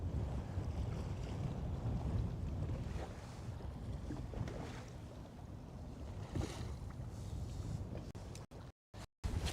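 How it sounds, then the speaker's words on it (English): Steady wind gusts buffet a fishing boat out on Lake Guntersville, with low rumbling wind noise across the microphone and faint water movement, ending in a few abrupt dropouts. "Oh, it is breezy now"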